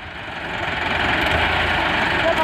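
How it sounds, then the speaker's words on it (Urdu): A tractor engine revs steadily, its low throbbing drone building slightly and holding loud and close, with a faint voice underneath. "تھوڑی ریس رکھ نا ٹریکٹر"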